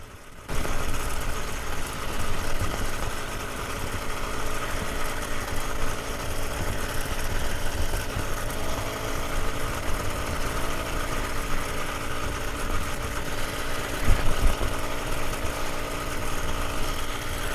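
A motorized bike engine runs steadily while riding on gravel roads at the old Jefferson Proving Grounds. The close, loud, buzzing drone holds constant for the whole stretch after a brief quiet start.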